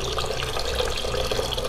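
Tap water runs steadily while silver chloride is rinsed during silver purification, a continuous close splashing flow with no pauses.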